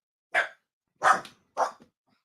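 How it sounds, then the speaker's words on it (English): Three sharp dog barks in a quick uneven series, close and loud against a silent background, the last one slightly shorter with a small trailing yelp. "There go my dogs."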